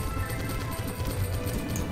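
Hoofbeats clip-clop in a steady busy patter from horses in the Overdungeon card game, a continuous dense trampling with no talk over it.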